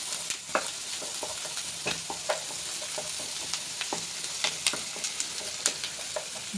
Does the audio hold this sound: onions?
yes